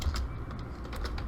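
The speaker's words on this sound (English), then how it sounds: "if we type directly in here" Quick, light keystrokes tap on a computer keyboard in a steady run of clicks, close and clear, with no talking during the short burst.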